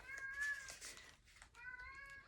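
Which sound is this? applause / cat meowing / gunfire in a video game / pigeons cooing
cat meowing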